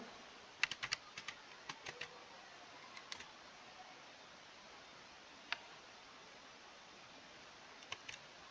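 Scattered, quiet keystrokes tapped on a computer keyboard, in a few quick bursts and then single clicks, with a very faint hiss in the background and no talk.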